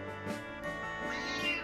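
A Bengal cat meows at home, a drawn-out, rising and falling call at moderate volume, with no talking.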